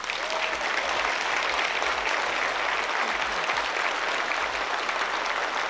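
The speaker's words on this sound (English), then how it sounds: "I would love a round of applause for Quinn." Sustained applause from a crowd at a Lorcana championship opening ceremony, a dense, steady wash of clapping that stays loud throughout without pause.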